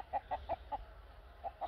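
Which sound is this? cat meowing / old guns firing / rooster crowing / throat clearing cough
rooster crowing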